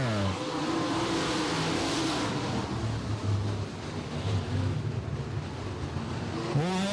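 Open modified race cars roar around the Bradford Speedway dirt oval, engines loud and steady with revving rising and falling throughout, a car passing close near the end.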